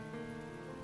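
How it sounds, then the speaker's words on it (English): Rain falling steadily on rock outdoors, a continuous soft hiss with sustained tonal layers from background music, faint and unbroken with no voices. "the rain began to intensify yet again"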